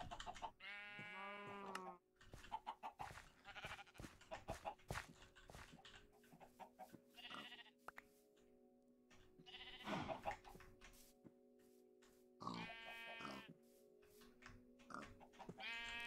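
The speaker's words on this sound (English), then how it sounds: "Two of the sheep are there." Sheep bleating in the Minecraft modpack SevTech: Ages, several harmonic bleats at moderate loudness mixed with other farm animal calls and clicking game sounds, with a person talking over them.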